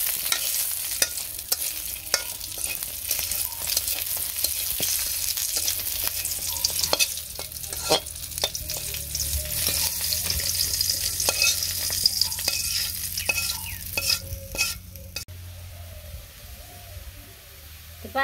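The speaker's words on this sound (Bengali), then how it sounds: "পাট শাক দিয়ে দিছি শাক ভাজি একটু তেল দিয়ে দিলাম তেল দিয়ে নাড়াচাড়া দিয়ে" Jute leaves being stir-fried in a little oil make a soft, continuous sizzle close by, broken by frequent scraping and clicking stirring strokes of a utensil against the pan.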